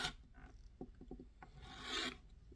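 Quilting fabric edges are trimmed while making half-square triangles for a fractured quilt block, giving a close, dry rasping and rubbing with several short scrapes followed by one longer, brighter swipe.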